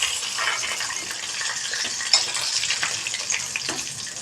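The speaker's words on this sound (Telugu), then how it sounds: "అంటే నేను కొంచెంగానే ఫ్రై చేసుకుంటున్నాను." Baby potatoes fry in hot oil with a steady, close, hissing sizzle and small crackles throughout, with no talking.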